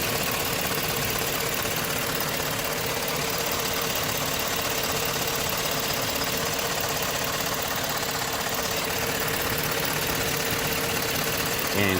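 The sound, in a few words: GM Yukon truck engine idling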